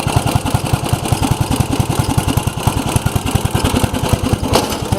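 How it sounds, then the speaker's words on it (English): A Briggs & Stratton engine on a Craftsman riding mower runs steadily up close, its even, rapid chugging firing pulses loud and smooth with no talking. "Very smooth running Briggs."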